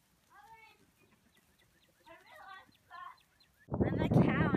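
Soft chicken clucks come in short bursts on a farm, in response to a person's loud cow call, followed by a louder, harsher burst of noise near the end.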